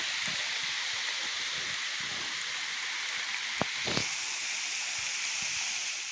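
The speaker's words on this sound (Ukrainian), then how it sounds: "Дощ собі помаленько дрібонить." Steady soft hiss of light rain falling over forest foliage, with a couple of brief close taps and rustles.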